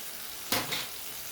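A ground paste of coriander, ginger, cumin and a few peppercorns drops into a hot pan for a vegetarian soybean dhoka curry, setting off a sudden loud sizzle that flares briefly and then settles back into a quiet, steady hiss.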